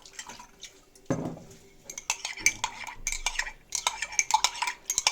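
A spoon clinks and scrapes against a mug while milk is stirred, quick irregular taps and swishes close by.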